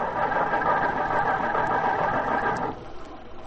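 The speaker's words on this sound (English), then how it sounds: "You'll never get it started now, Corey." A bus engine with a wet, flooded carburetor cranks and strains to start, a loud steady grinding drone that suddenly drops off near the end and leaves a quieter rumble behind.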